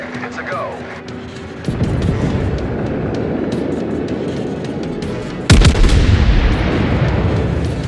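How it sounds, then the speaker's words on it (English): Heavy naval gun salvos from warships in World of Warships, booming in loud sustained waves with a sharp new blast partway through, under battle rumble and game voice callouts. "Concentrate fire on the enemy warship"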